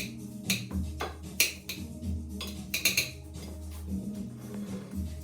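A knife chops avocado into small pieces on a board with a run of sharp, irregular taps and clicks, close and moderately loud against a low background hum.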